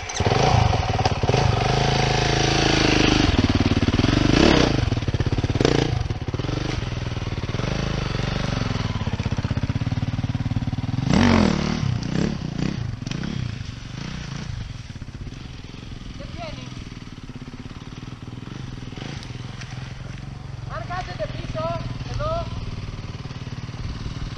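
A motorcycle engine revs hard and rattles loudly up close while the rider pulls a wheelie, easing into a lower idle later, with someone talking over it throughout.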